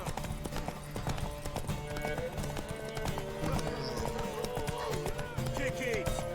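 Rapid hoofbeats of a galloping horse in The Witcher 3 clatter steadily over a busy background of music and voices, with a brief whinny.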